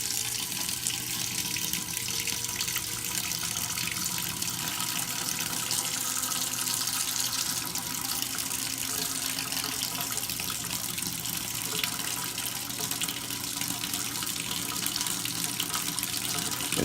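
Hot water runs steadily from a tap into a sink, a continuous close, even rushing flow with no break and no voices.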